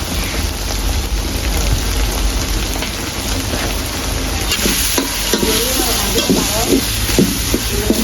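Spices and chili fry for a pangas fish curry with crab, a loud dense sizzle and frequent stirring scrapes throughout, with a voice faintly talking over the cooking.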